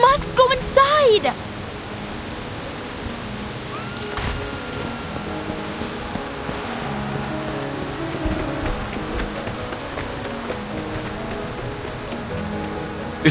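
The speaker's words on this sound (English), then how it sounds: "The rain's getting heavier!" Heavy rain pours in a video game scene, a steady, dense hiss of downpour that runs evenly throughout, with a short burst of voice near the start.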